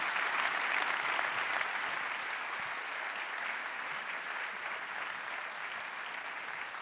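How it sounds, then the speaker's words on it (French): A conference audience gives a steady, even wash of applause that carries on at a constant level for about seven seconds, many hands clapping at once in a large room. "Mesdames et messieurs, je vais vous demander de bien vouloir applaudir Gabrielle Alperne."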